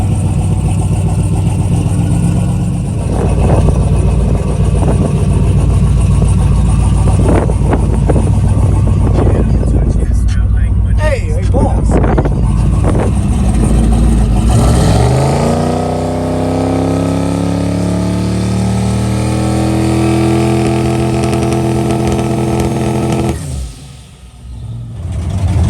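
Drag race car engine at Bandimere Speedway running a two-step launch control check: loud, close engine with sharp revving bursts and crackling pops, then a long rising rev before cutting off near the end.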